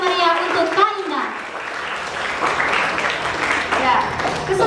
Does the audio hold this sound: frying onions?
no